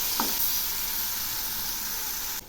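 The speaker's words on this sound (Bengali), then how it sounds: "এখন এই মশলাগুলো একটু নেড়ে দিচ্ছি।" Mustard paste, onion paste and tomato paste frying and being stirred in a pan give a steady close sizzle with soft scraping, heard alone without talk, before a sudden drop near the end.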